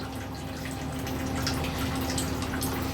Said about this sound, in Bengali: এই যে দেখো নিহারি সিদ্ধ হচ্ছে আস্তে আস্তে